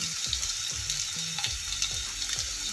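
Grated ginger fries in a pan with onions for a capsicum dish, over a continuous sizzle broken by a quick series of spatula taps and scrapes.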